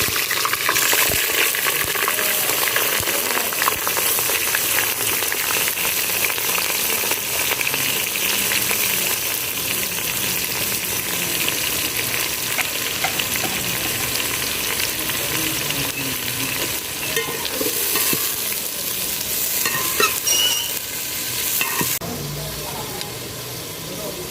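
Onions fry in oil inside a handi, a loud continuous crackling sizzle with occasional stirring scrapes, steady for the whole stretch.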